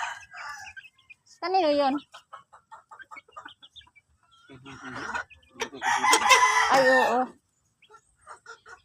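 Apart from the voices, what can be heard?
chickens clucking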